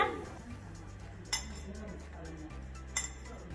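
Steamed purple sweet potatoes lifted out of a metal steamer on a home stove, giving two sharp metallic clinks of lid and pot against a low background hum.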